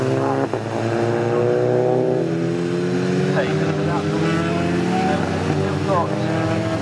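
Saloon race cars pass along the Snetterton circuit in a 28-car race, a steady layered engine drone with rising and falling pitch sweeps, under a commentator's voice.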